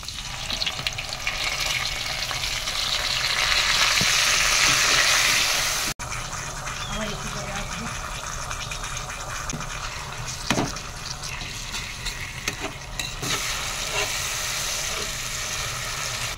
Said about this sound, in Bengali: তেলে একটু দিয়ে দিচ্ছি জিরে, লঙ্কা দিচ্ছি, তেজপাতা দিচ্ছি, টমেটো বাটা